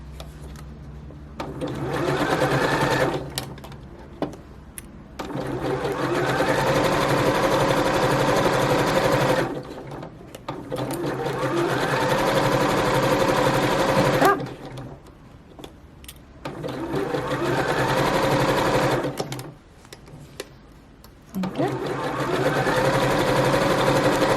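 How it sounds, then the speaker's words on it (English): A sewing machine runs a zigzag stitch along fabric bunting in four long bursts of steady mechanical whirring, each separated by short pauses, close and fairly loud. "Continue the zigzag stitch over the gap."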